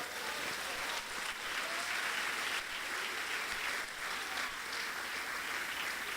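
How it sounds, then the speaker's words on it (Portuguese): Church congregation applauding during a worship service, a steady wash of clapping that holds at an even level throughout, with no pauses or voices standing out. "Dê um aplauso a Jesus."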